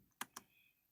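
A few quick keystrokes on a computer keyboard, two distinct clicks close together and near the microphone, in an otherwise quiet room.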